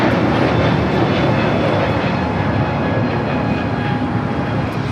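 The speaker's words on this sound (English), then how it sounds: "This is Spirit Airlines 154 taking off to Atlanta on the A321neo." A Spirit Airlines Airbus A321neo takes off at LAX, a loud continuous engine roar with a rushing broadband texture, close and sustained without any talking.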